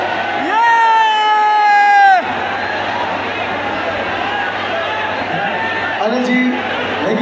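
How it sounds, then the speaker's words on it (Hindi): Crowd at a Gadar 2 film event at Habitat Centre, Indirapuram cheering and applauding the director, a loud continuous wash of claps and whoops, with a sustained tonal whistle or shout riding over the start before the crowd noise settles into steady cheering. "एक बार जोरदार तालियों के साथ इस मूवी के डायरेक्टर अनिल जी के लिए"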